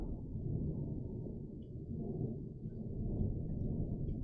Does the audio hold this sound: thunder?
yes